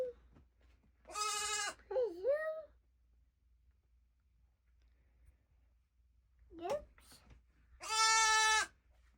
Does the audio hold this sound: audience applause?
no